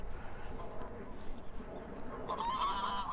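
A flock of geese honks outdoors. The calls are faint and distant at first, then a clearer honking burst comes near the end over a low background rumble.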